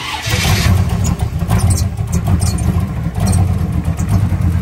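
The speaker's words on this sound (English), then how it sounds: "Chevy 383, twin turbo, four-speed automatic, four-wheel disc brakes" A 1955 Chevy truck with a 383 stroker twin-turbo V8 runs loud and close with a deep, rumbling, steady idle, and the tone rises slightly in a few places.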